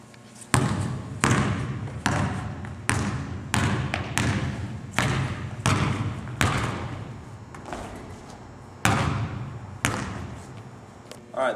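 A basketball bounces on a court during jump shot practice, giving a steady run of loud, sharp thuds about a second apart that sound close and echo in an open space. No one speaks.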